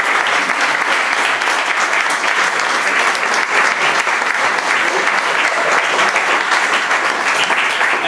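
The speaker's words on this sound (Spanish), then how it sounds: "yo os daría un aplauso para el director" Sustained, loud applause fills a Fnac bookstore event room in Spain as an audience claps for the director, a thick, even wash of many hands that holds steady without pause.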